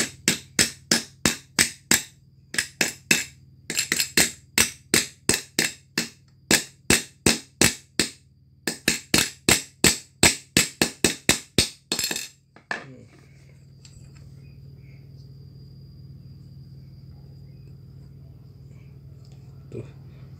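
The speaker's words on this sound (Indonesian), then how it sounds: "Kemudian pakai palu." A hammer taps a part into place on a Jupiter MX motorcycle. Rapid, sharp metallic strikes come in short bursts for about twelve seconds, close and loud, then stop and leave only a low background hum.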